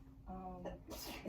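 A single quick sneeze, quiet and fairly close, with a brief voiced intake before the burst, during an author talk at a bookshop.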